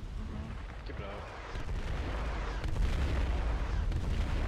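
Artillery fire in the war game Foxhole: deep, muffled booms and rumbling blasts build in loudness over a low continuous drone.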